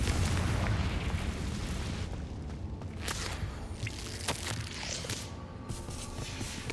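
A Confringo spell blasts in Hogwarts Legacy, a fiery explosion that booms and rumbles loudly, with scattered bursts and crackles over a dense low roar that keeps going for several seconds.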